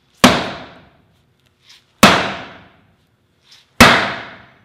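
Three single heavy dead blow hammer blows land on an anvil, each a sharp loud strike with a short ring and no rebound taps, with quiet gaps between.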